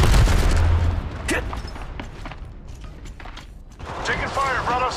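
Weapon reloading in Apex Legends Mobile, with mechanical clicks and clacks after a loud opening, then quieter rattling and in-game chatter toward the end.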